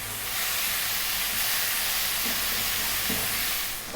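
Tomatoes with fresh homemade curry powder cook down in a pan for lentil dal, giving a steady, close hiss and sizzle with faint stirring that stays even throughout, no voices.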